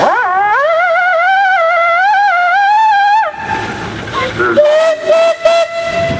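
A loud steam traction engine whistle blows one long sustained tone for about three seconds, then stops, leaving mechanical clatter and a shorter steady whistle note, at a steam threshers show.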